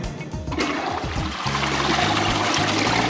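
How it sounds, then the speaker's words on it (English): A toilet being flushed with toilet paper in it, water gushing loudly and steadily into a drainage ventilation system, with a rushing surge building after a brief start and continuing throughout. "we're gonna do a toilet paper flush"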